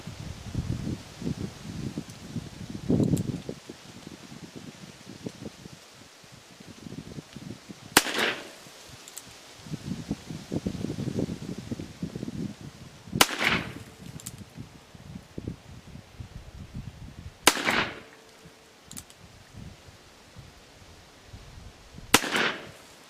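A 4-inch Colt Python .357 Magnum revolver fires test ammunition outdoors, four sharp, well-spaced shots several seconds apart, with rustling and handling noise between them.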